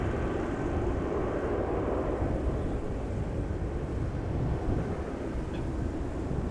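An Airbus A330 airliner climbs out after takeoff from Amsterdam Schiphol with its gear slowly retracting, a steady broad jet roar mixed with wind rumble that holds at an even level throughout.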